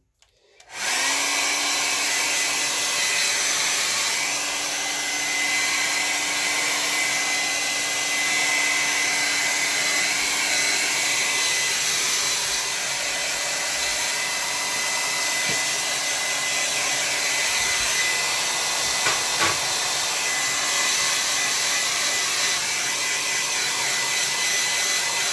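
A hair dryer blows on a watercolor painting on Bockingford oatmeal paper, a loud, steady whooshing roar that starts abruptly and holds for about twenty-five seconds without talk.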